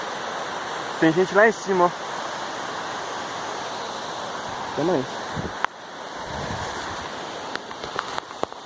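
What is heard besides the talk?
waterfall in a forest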